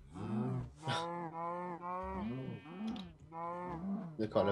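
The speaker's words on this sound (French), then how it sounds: "la vache qui suffoque dans l'arbre" Cow mooing in the video game Minecraft, several long, drawn-out moos one after another, fairly clear and close, with a short pause between calls.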